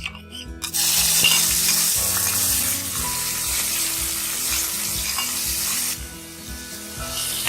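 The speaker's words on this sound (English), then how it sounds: "Now roast the ginger. Roast it for 30 seconds." Ground ginger and cloves sizzle and fry steadily in a hot pan, a loud, continuous crackle with faint stirring scrapes, starting sharply after a brief quiet moment and easing slightly toward the end.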